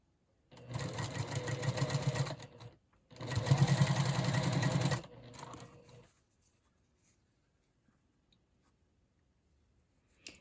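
A sewing machine stitches small quilt block pieces for a mosaic block in two steady whirring runs of about two seconds each, with a short pause between, then stops and leaves quiet.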